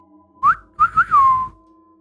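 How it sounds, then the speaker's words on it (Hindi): A lone eerie whistled tune drifts from just outside a cabin window in the dark, a few short rising notes followed by a longer sliding one, clear and close with silence around it. "सीटी नहीं रुकी। कैबिन की खिड़की के ठीक बाहर से अंधेरे में से वही धुन वापस आई।"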